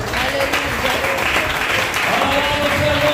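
A church congregation applauding during a sermon, dense loud continuous clapping from a full room with voices mixed in underneath.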